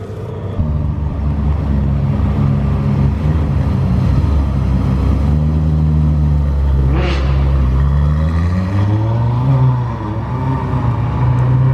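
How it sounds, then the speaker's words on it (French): Aston Martin GT12 hypercar engine revving hard and accelerating, a loud rumbling roar climbing and falling in pitch across several gear pulls, with a sharp whoosh as it passes close by. "Aston Martin GT12."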